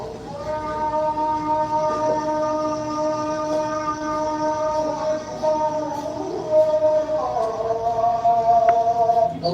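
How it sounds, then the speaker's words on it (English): A call to prayer rings out in long, drawn-out melodic tones that waver and rise near the end. It is moderately loud and resonant, as if from a distance. "You can't heckle the call to prayer."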